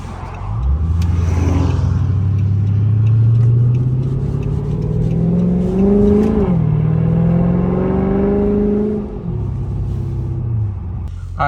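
A Dodge Charger SRT8 V8 rumbles loud and close while driving through suburban streets, revving hard in repeated rising surges with gear changes and a deep throaty idle between pulls, no voices.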